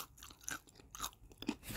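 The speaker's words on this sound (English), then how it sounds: "the chicken is still very crunchy despite being in the box" Crunchy fried chicken from a takeout box being bitten and chewed up close, a run of sharp crackling crunches with short pauses between bites.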